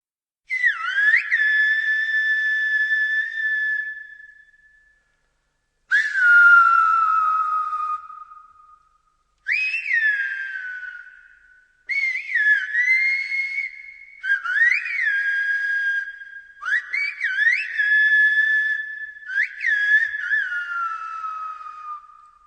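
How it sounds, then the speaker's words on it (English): A series of clear Silbo Gomero whistled phrases with rising and falling pitch glides, separated by short pauses, sounding like a whistled language rather than a tune. "listen to this sample of the Silbo-Gumero language."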